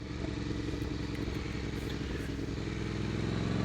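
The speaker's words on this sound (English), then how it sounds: "Exhaust notes sound really good, but it's very loud." Moto Guzzi cafe racer motorcycle on a road test, its loud exhaust running steadily with a rough, throbbing note and some mechanical clatter, heard close throughout.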